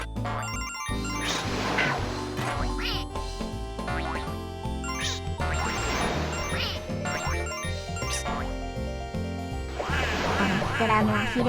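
An inflating duck in the Sega Saturn game Clockwork Knight quacks amid jingly, chiming game music and sound effects, with a voice talking over the busy, continuous mix.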